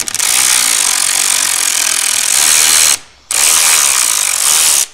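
A ratchet wrench clicks rapidly and loudly up close as a quarter-inch socket is tightened, two long bursts of ratcheting split by a brief pause.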